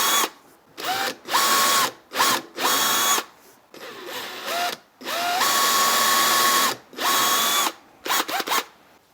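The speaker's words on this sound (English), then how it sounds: "I am going to pilot drill the wood" Power drill whirring while pilot-drilling wood in repeated bursts of several seconds, pitch rising as each run spins up, with short pauses between; loud and close.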